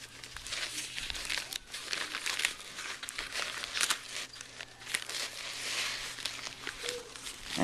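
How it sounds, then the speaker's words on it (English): Tape being handled and pressed onto a surface at home, with steady soft crinkling and rustling and scattered sharp ticks, close and quiet. "we're going to put the tape on"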